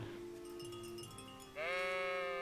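Sheep bleat in the open farm setting of the video game Kingdom Come: Deliverance, a sustained wavering baa rising loud near the end over a steady background.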